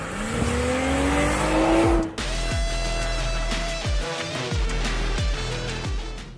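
BMW M340i with a 3-litre B58 straight-six, accelerating with a rising engine note, then a sharp cut and a series of quick, loud gear-change revs, close up with no talking.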